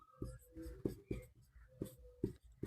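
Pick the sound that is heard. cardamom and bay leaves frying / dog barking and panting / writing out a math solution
writing out a math solution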